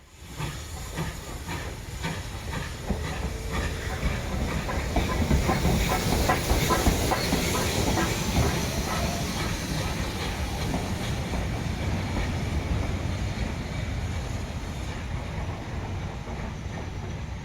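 BR Standard Class 2 steam locomotive 78018 hauling a passenger train toward Loughborough during a Great Central Railway autumn gala, with a loud continuous hiss and chuffing, rolling rail rumble and rhythmic clicking. No one speaks.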